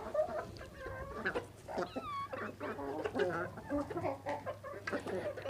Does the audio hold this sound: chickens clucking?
yes